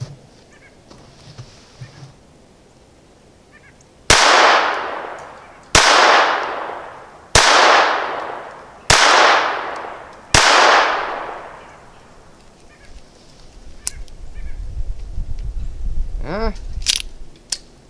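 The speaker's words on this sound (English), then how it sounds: "And I'm going to fire now." A Ruger LCP II .22 pistol fires five evenly spaced shots at a paper target, each a loud crack with a ringing decay. Quieter handling noise and clicks follow.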